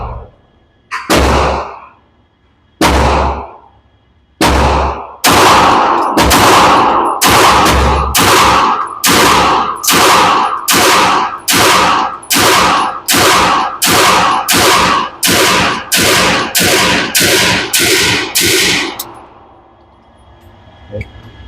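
AF Romulus airsoft pistol fired at targets: three spaced single shots, then a fast, steady string of about fifteen sharp, loud cracks, ending in a brief quiet tail.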